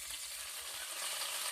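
Pumpkin leaves fry in a pan with a constant bright sizzle, close and unbroken, with soft stirring thumps underneath.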